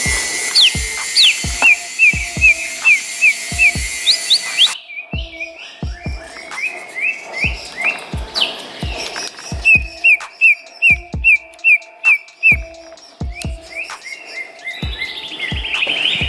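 Cucak hijau songbirds at a bird breeding farm in Cibubur give bright repeated chirps and whistled calls, several birds overlapping, with a steady train of soft knocking taps running underneath throughout.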